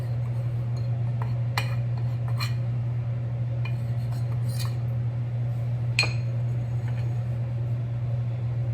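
Rich Christmas plum cake batter being stirred in a bowl, with a handful of scattered clinks of a utensil against the bowl over a steady low hum, no voices.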